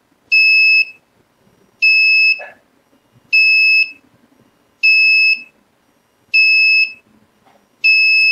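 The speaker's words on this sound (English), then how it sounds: "So that's the beep." A Lamptron FC6 fan controller sounding its temperature alarm, a piercing electronic beep repeating at a steady rhythm roughly every second and a half, six bright tones with silence between.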